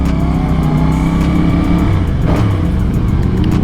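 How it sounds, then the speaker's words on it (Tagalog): CF Moto 450CL-C motorcycle exhaust droning loud and close while riding, a steady throaty engine note with slight pitch shifts under wind noise. "Ang ganda talaga ng tambucho nito."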